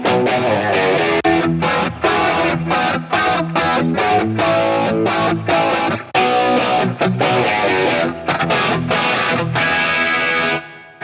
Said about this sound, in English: we can actually listen to the Rockman dirty or the Rockman distortion and the dirty channel side by side